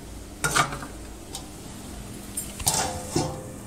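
Chopped banana stem with shrimp is fried in a pan, giving a soft sizzle under a few scraping and clinking stirs of a utensil against the pan, heard close and without speech.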